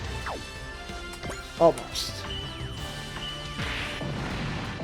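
A smash attack in Super Robot Wars Y lands as one short, sharp crash about midway, set against steady game music while someone talks throughout.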